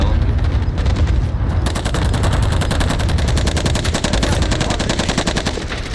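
Rapid automatic gunfire in a first-person shooter video game, a loud, dense stream of shots that runs almost without pause, with players talking faintly underneath.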